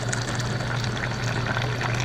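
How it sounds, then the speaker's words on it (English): Hot water from an instant hot water tap gushing steadily into a pot for split pea soup, a close, continuous filling stream with no talking. "Now you need to put hot water on that from a kettle. We happen to have instant hot water,"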